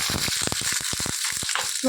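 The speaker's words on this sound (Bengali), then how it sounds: "পাকা পটল ভাজা এটা কিন্তু সম্পূর্ণ খাবার" Ripe pointed gourd fries in oil in a short, close burst of crackling sizzle that comes in uneven pulses.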